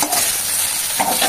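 Food frying in oil makes a loud, dense, close sizzle that holds steady for about a second.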